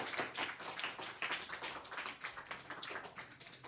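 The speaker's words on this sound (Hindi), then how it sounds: "14 ताली बच्चे के लिए।" A classroom of schoolchildren claps for a classmate who answered correctly, a steady patter of many small hands of moderate loudness running throughout with no talk over it.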